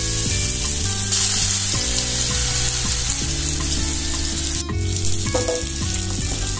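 Ginger and garlic frying in a kadai, a loud, continuous sizzle that fills the whole stretch at close range, with no voices over it.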